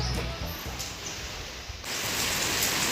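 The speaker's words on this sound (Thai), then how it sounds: "ฝนตก" Rain falls steadily outdoors as a continuous broadband hiss that grows louder partway through, with no talk.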